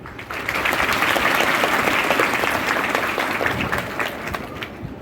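At a girls' school programme, an audience of students applauds loudly and continuously, a dense, even clatter of many hands that swells quickly and holds steady for several seconds.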